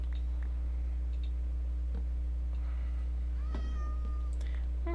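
A house cat meows in a modded Minecraft game, with a single short, fairly clear mew rising over a steady low hum, with faint clicks scattered around it.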